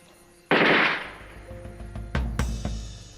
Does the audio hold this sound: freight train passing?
no